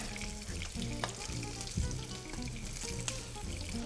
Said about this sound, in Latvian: Tā, ok, pāna mums ir. Mēģinām sept, ja.